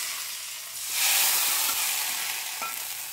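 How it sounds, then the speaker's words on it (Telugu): Hot tempering poured into tomato rasam, the sizzle swelling into a loud burst of hissing about a second in and then holding steady, with a small clink near the end. "మరిగిన తాలింపుని చారులో వేసుకోవాలి."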